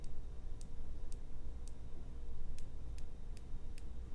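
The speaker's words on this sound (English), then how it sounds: "Let's listen for any type of clicks." Crisp, evenly spaced clicks from the locking turret of a Victoptics 1-6x24 LPVO rifle scope being adjusted, about eight distinct detents over a faint steady background hiss.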